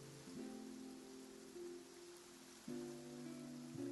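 Steady rain falls in Fontaine in the video game Genshin Impact, a soft, even patter under sustained tonal background music that swells slightly near the end.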